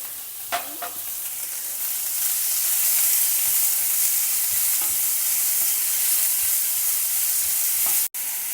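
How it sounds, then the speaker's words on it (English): Chopped onion, green chillies, grated carrot and capsicum stir-fried in a pan give a steady, close sizzle from start to end, with a few louder scrapes of stirring near the start and one brief gap near the end. "Stir fry it till the onions and other vegetables are well cooked."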